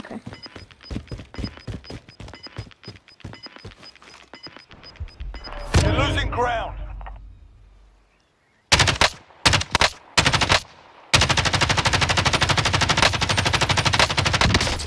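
Loud video game gunfire in rapid automatic bursts, with long stretches of sustained firing broken by short gaps and a brief quiet spell.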